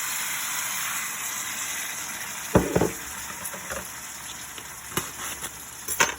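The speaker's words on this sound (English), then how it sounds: "I get 3/4 cup of water and I pour it in here" Water poured into a hot pan of fajita meat sets off a steady, hissing sizzle of frying that continues throughout, with a few louder spits and crackles scattered on top.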